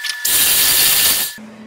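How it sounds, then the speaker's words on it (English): An electric mixer running on low blends red velvet cake batter with added water, giving a loud, steady whirring roar for about a second before it cuts off abruptly, with no talk. "And go ahead and blend that up as well."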